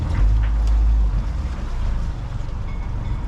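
A cheap catamaran's newly fitted outboard motor running in gear, a steady loud low engine drone with water churning close by, holding an even level throughout.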